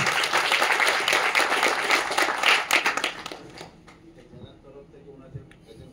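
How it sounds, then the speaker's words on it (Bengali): Students at a Swami Vivekananda youth conference applaud a special guest with dense, steady clapping for about three seconds, then it thins out and fades into a quieter room murmur. "আমি কিন্তু ওনার জন্য ছাত্রছাত্রী এবং আমরা সবাই একটা করতালি দিয়ে ওনাকে একটু সম্বোধিত করছি"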